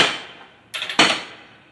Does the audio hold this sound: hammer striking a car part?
yes